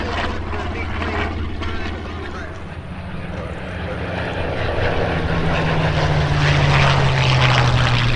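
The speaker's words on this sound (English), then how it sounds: "Those two aircraft passing from the left to our right are on the outside with a red tail, the North American P-51 Mustang" Two North American P-51 Mustang propeller fighters from World War II pass left to right at an airshow, their loud engine drone swelling as they approach, with a rising low hum and an announcer talking over the noise.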